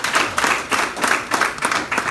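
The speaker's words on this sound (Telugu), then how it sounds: "ఒకసారి దీనికోసం క్లాప్స్ కొట్టాను" An audience at a business plan presentation claps in short rhythmic bursts, a steady patter of hands rising and falling about every quarter second, moderately loud with no talk over it.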